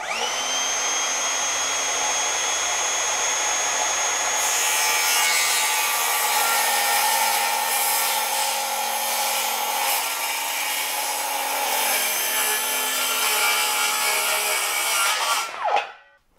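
A Bosch GKS18V-68GC cordless circular saw spins up with a rising whine, then cuts through 30 mm plywood in one long, loud, steady pass with a raspy tearing edge, and winds down abruptly at the end.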